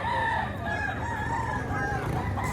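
A Talisayan gamefowl stag crows at a farm among roosters, its call drawn out over steady background clucking and crowing from other fowl, with a voice faintly in the mix.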